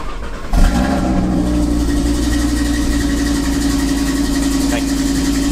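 An Audi TT RS five-cylinder fitted with an Armytrix downpipe and remap fires up with a sharp burst of cranking and catch, then settles into a loud, steady, throaty idle that carries on close by without a break.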